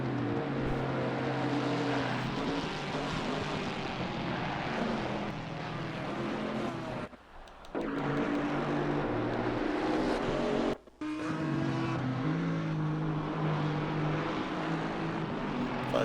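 Camaro GT4 race cars in a racing video game at Circuit Catalunya, engines droning loudly and steadily with shifting pitch as they run together on track, broken by two brief dips near the middle.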